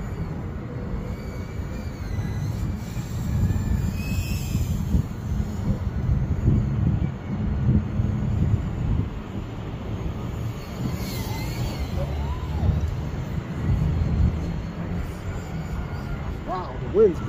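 Strong wind blows outdoors in a park, buffeting the microphone with a heavy, continuous low rumble, while a faint high whine from a small drone drifts in and out.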